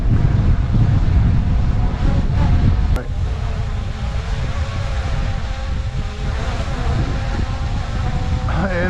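Strong wind roars and buffets a microphone outdoors during a high wind test of a Holy Stone HS600D drone, a constant loud low rumble throughout with someone talking underneath.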